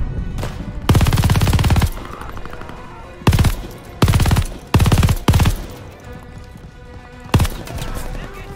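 Automatic weapon fire in Call of Duty: Vanguard, loud close bursts of rapid shots in several separate volleys of varying length with short pauses between, set against a battlefield background.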